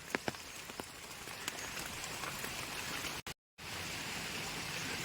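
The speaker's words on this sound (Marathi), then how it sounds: "दोन दिवस सलग जोरदार पाऊस आहे" Steady, dense monsoon rain in the Konkan hisses across the whole recording, with a few sharp drips near the start and a momentary dropout partway through.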